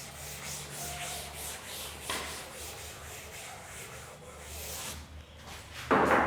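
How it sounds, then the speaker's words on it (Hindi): A blackboard being erased during a chemistry lesson on atomic structure, steady close rubbing strokes that continue for several seconds before a louder scrape at the end, with no one speaking. "ये वाला पार्ट मैं रब कर रहा हूँ"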